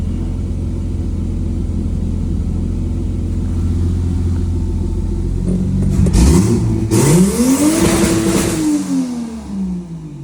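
A turbocharged 2JZ engine swapped into a Nissan S14 idles with a steady rumble, then revs up sharply twice with rising and falling engine pitch and turbo whoosh, loud and close.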